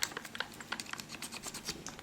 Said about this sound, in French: ce que vous entendez là, c'est juste les attaches sangles que j'essaie de retenir avec les doigts